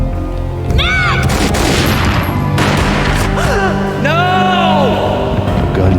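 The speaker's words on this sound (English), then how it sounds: "A gunshot boomed and she fell down in slow motion" Gunfire in the Max Payne video game, loud booming shots and crashes amid dense game effects and music, with swooping tones over a constant full-level mix.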